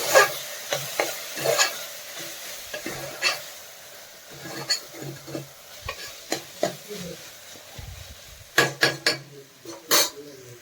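Utensil stirring garam masala and turmeric powder into an avarekalu (field bean) rice bath mixture in a pan, with repeated scraping and clinking strokes, some louder bursts near the end, mostly irregular and close.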